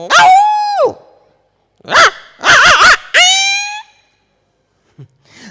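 A human voice imitates a small puppy bravely barking: a few high, wavering yelps and short barks in quick bursts, close and loud, with brief pauses between them.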